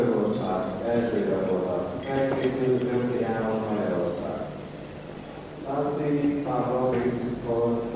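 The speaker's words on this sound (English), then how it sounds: "you can hear the announcement in the background" A public address announcement echoes through a large hall, the amplified voice steady and reverberant across the whole stretch.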